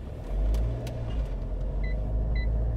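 A Mahindra XUV500 automatic SUV in drive mode pulls away with a low, steady engine rumble, heard from inside the cabin, with a couple of faint high electronic chimes near the end.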